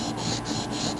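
A knife blade is drawn across a sandpaper block for sharpening, giving close, rhythmic gritty rasping strokes in a quick back-and-forth pattern, with no talk.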